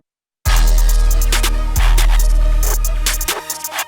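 An FL Studio trap beat bursts in after a moment of silence, with booming 808 bass, crisp hi-hats and snares, while master volume automation pulls the level down toward the drop near the end.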